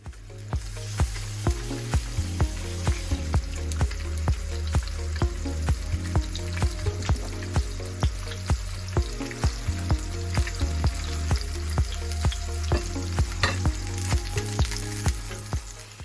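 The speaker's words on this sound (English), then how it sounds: "when the oil is very, very hot, almost smoking, go ahead and add your salmon fillet, presentation side down" Salmon fillet, presentation side down, sizzles and fries steadily in very hot, almost smoking oil in a pan, with a loud continuous crackle and pops.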